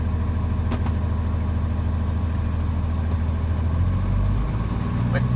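A Peterbilt sleeper tractor pulling a 53-foot trailer idles nearby, giving a steady low diesel rumble that swells slightly toward the end. A few faint clicks sit over it, and no one speaks.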